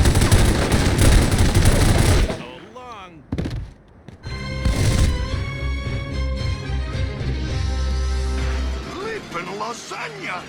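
Rapid bursts of gunfire from the video game The Godfather Mob Wars, loud and dense at first, then breaking off into scattered thuds and a sustained tonal backdrop.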